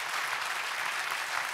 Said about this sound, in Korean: 다시 한번 문재인 후보님께 박수 보내주시기 바랍니다